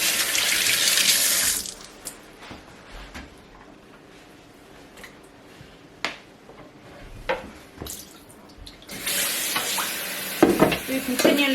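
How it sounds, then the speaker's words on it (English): Tap water runs loudly onto a cutting board and equipment being rinsed during round fish filleting, with a loud stretch of gushing water at the start and again near the end, and quieter clatter and handling sounds between. "You continually rinse your boards and your equipment"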